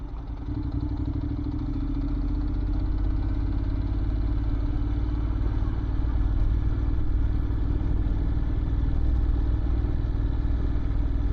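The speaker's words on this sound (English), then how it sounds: "What you see here is a 1981 Honda CM400 Custom." A 1981 Honda CM400 Custom motorcycle engine idles steadily and close by, a continuous low, even rumble with light mechanical clatter holding for the whole stretch with no talking.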